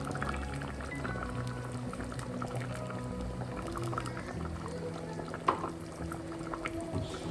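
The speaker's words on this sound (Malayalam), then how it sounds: "ഈ സമയം നമുക്ക് ലോ ഫ്ലെയിമാക്കി കാഷ്യൂ അരച്ച പേസ്റ്റ് ചേർക്കാം" Cashew paste is added to a coriander chicken curry simmering on low flame, giving faint, steady bubbling and soft pouring sounds, with one sharp knock partway through.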